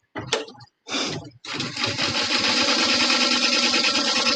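A BAI embroidery machine stitching an in-the-hoop snowman design, with a couple of short starts and stops before it settles into a loud, steady, rapid needle chatter close by.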